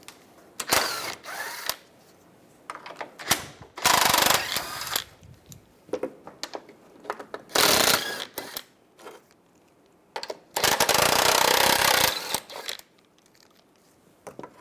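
A ratchet with a 10mm socket removes bolts from the side shield of an automatic transmission on a 1999-2006 Chevrolet, giving bursts of rapid clicking separated by quieter pauses.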